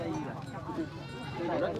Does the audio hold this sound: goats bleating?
yes